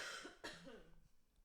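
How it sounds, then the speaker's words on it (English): A single person's harsh cough, close and fairly quiet, followed by a short throat-clearing tail and then near silence. "I have to cough."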